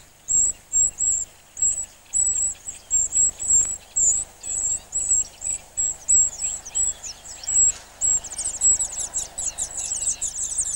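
Wren chicks in the nest give high, thin pleading calls, a rapid string of short repeated cheeps pulsing steadily and close, growing denser and more insistent toward the end.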